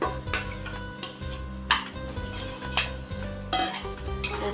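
A spoon stirs chicken into biryani in a metal pot, giving repeated scraping strokes and clinks at an uneven rhythm, close and fairly loud, with a faint sizzle underneath.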